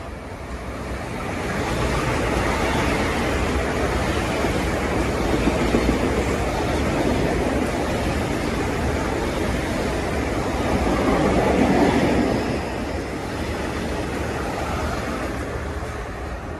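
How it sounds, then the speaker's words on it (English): A Metro-North New Haven-bound train of M8 cars pulls into Port Chester station, a steady broadband rumble and rush of wheels and air that swells toward the middle and stays loud throughout, with no talking. "And here comes this New Haven bound train."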